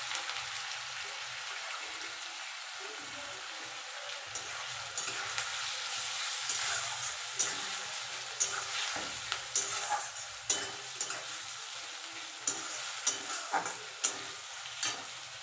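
Chopped onion, garlic and ginger fry in a hot pan for an egg curry, a continuous close sizzle with stirring scrapes and small pops growing more frequent toward the end, no voices.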